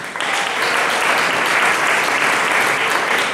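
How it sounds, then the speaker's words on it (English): Loud, steady audience applause for a councilwoman at a union hall ribbon cutting, a dense wash of clapping rising quickly and holding evenly. "Give her a round of applause."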